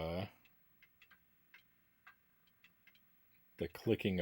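Clocks tick in the Nintendo 64 game Castlevania: Legacy of Darkness, sounding as soft, irregular clicks in a quiet scene, with speech at the start and end.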